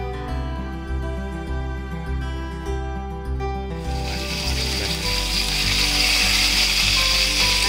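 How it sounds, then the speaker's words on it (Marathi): Mustard seeds, asafoetida and curry leaves frying in hot oil in a kadai for a Malvani fish curry, a steady sizzle that swells into a loud, dense crackle partway through, over a low continuous hum. "त्यात मोहरी, हिंग आणि कढीपत्ता असे आपण फ्राय करून घेत आहोत"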